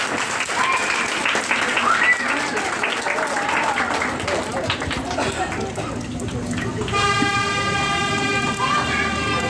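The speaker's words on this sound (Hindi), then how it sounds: "और जोरदार तालियां बजनी चाहिए" A school event audience applauds loudly for several seconds, then the clapping gives way to a sustained tonal horn or siren-like sound with people talking underneath.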